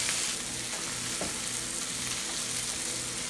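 Onions sauté with pepper powder in a pan, making a dense, even sizzle that keeps going throughout with light stirring sounds. No voice is heard.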